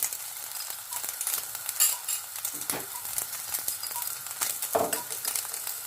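Teriyaki sauce mixture hitting chicken in a hot pan, making a close, steady sizzle with stirring scrapes and occasional utensil clinks.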